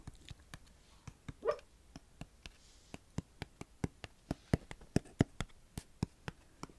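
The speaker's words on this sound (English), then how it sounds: "Oh, she's barking." Faint, muffled little yips and soft whimpers from a small dog barking in its sleep, scattered among sharp irregular tapping clicks on boxes in a quiet room.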